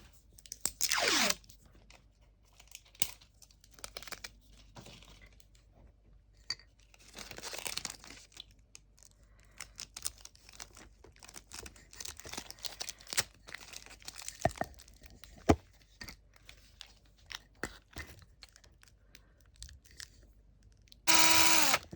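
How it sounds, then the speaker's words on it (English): A small drill boring a hole through a stone set in an 18th-century girondelle style earring, with faint, close crunching and grinding spread unevenly over the whole stretch and a few louder bursts. "I will try to drill in the end here"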